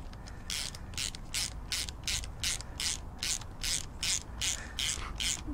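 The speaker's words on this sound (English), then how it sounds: "get the ratchet here for speed" A ratchet tightens a bolt on a Honda Civic Type R K-series gearbox with rapid, evenly spaced clicking strokes close by, about a dozen bursts of steady rhythmic ratcheting.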